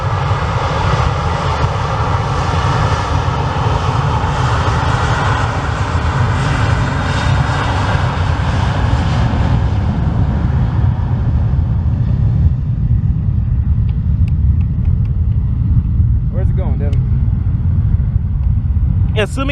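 An Airbus A321's jet engines rumble loudly and steadily as the airliner departs, the roar slowly fading, with voices talking nearby.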